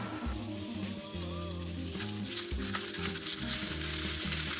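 Potatoes fry hard in hot oil in an overcrowded pan, a loud, steady crackling sizzle with dense spitting bursts that holds throughout without any talk.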